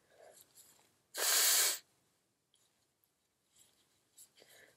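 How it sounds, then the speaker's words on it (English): A short, forceful nose blow into a tissue, a loud breathy honk lasting under a second, surrounded by quiet rustling and faint breathing. "I just want to blow my nose a little bit more."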